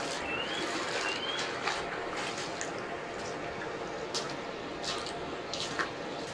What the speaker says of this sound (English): it's whoever's holding the camera sloshing through the river